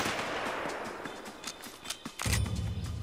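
Gunfire in the video game A Way Out, scattered shots crackling through a busy, noisy mix, ending in a louder, heavier burst of sustained firing.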